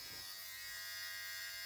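An electric shaver running close up in a steady, continuous buzzing hum for under two seconds, with no voices over it.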